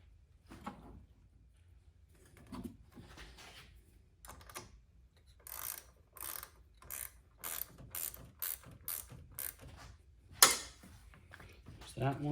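A ratchet tightens the battery terminal clamp on a 2010-2017 Chevrolet Equinox or GMC Terrain. Scattered clicks come first, then a run of quick, evenly spaced ratcheting strokes, close and moderately loud, with a faint voice in the background.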